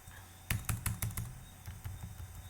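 Typing on a computer keyboard while writing C code, a quick burst of crisp close key clicks followed by a few slower, softer taps.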